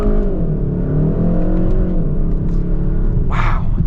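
A 2022 Kia K5 GT pulls hard under acceleration, its engine droning loud and close inside the cabin as the pitch climbs steadily, with a brief whoosh near the end.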